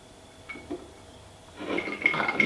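A splash of spiced rum is poured into a glass. First come a couple of light clinks, then a short, fairly close bright trickle and splash with no talk over it.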